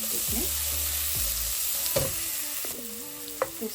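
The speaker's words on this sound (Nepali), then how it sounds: "यसरी भुट्ने।" Vegetables and spices for Nepali-style vegetable thukpa sizzle steadily in a hot pan while being stir-fried, with a constant frying hiss and occasional scraping knocks of a spoon, close and without talk.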